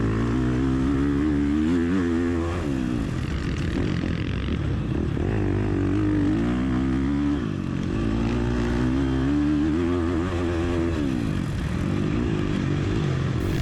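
Motocross bikes race at Hogback MX with a loud, continuous engine whine that rises and falls as the rider shifts and passes others, close to the bike and with no talk.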